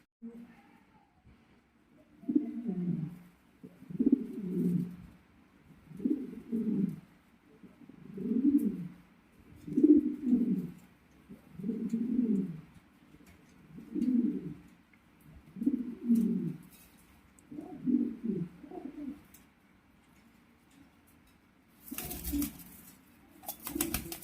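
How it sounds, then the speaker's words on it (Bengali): A female pigeon coos in a slow repeating series of about ten soft, low throaty calls evenly spaced, close by in a quiet space, with a brief burst of other noise near the end. "এটা মাদি কবুতর"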